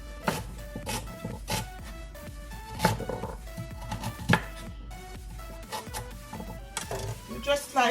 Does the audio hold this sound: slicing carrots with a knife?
yes